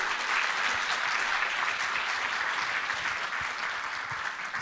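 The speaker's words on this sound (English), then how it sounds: "A big round of applause." An audience at the Moldova Security Forum gives a round of applause, with steady, moderately loud clapping from many hands that holds evenly throughout and no speech on top.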